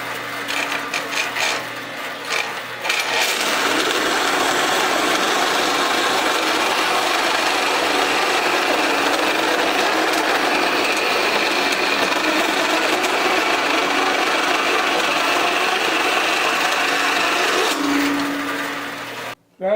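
Bandsaw cutting through a crusty piece of roughly 1/8 by 1.5 inch steel angle iron, a loud, continuous grinding rasp that starts after a few seconds and runs steadily until the cut ends.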